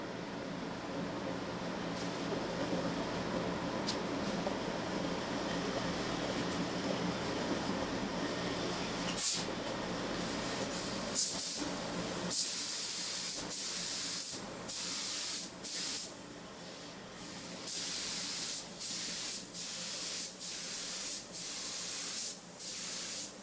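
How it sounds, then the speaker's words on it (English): A paint spray gun laying clear coat on a motorcycle engine, a steady close hiss running throughout, later broken into repeated short bursts as the trigger is pulsed. "I'm going to go ahead and start spraying the last coat of clear"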